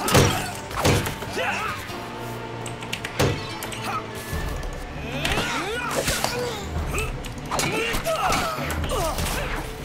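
Thuds, cracks and whip-like strikes of a triple projectile hit ring out in a Hand of Fate fight, several sharp impacts spread across the stretch amid combat noise and a talking voice.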